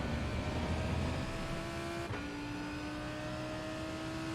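A Lamborghini Huracan GT3 EVO race car engine in the iRacing sim at Sebring, a loud, continuous drone that holds steady, then drops to a slightly lower pitch midway, as on a gear change or lift.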